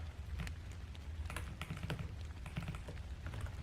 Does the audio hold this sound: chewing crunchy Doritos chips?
no